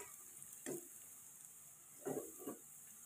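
Rendang is stirred as it fries toward brown, with a faint background sizzle and a few soft scraping strokes of the spoon against the pan.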